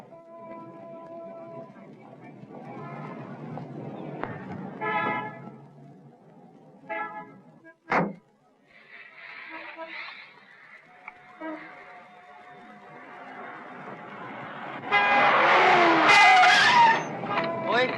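A taxi skids on a 1960s Hindi film street in a near collision, with a sharp screeching burst midway and a loud squealing rush near the end, amid street noise and voices.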